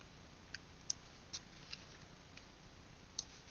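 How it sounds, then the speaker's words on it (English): Steam heating in a room gives sparse, faint clicks and ticks at irregular intervals over a quiet hiss. "I have steam heat, so there's not a whole lot I can do about the noise."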